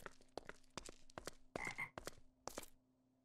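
Frogs croak in a fantasy MMO game, a series of loud, close, raspy croaks in an uneven rhythm with no talk over them.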